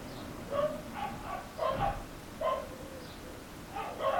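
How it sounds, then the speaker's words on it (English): Several dogs bark in the distance outside a garden, with repeated short barks in loose clusters, faint to moderate in level. "all the dogs are barking"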